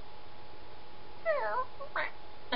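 A person imitates a cat with a drawn-out, wavering meow, followed by two short breathy bursts, fairly close against a steady low background hum.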